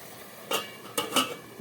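A lid set onto a cooking pot of Bengali labra vegetable curry gives a few sharp metallic clanks in quick succession, close and clear against a quiet background.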